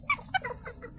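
Native chickens clucking in short, faint bursts over a steady high hiss, with no talk.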